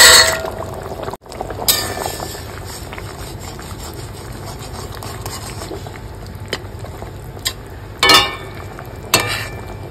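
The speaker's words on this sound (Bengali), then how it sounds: "এবার আমি উপর থেকে মাছগুলো দিয়ে দেবো।" Pieces of shol fish and fried lentil bori go into a boiling fish curry, with a steady liquid bubbling broken by a few sharp metallic clinks, and no one speaking.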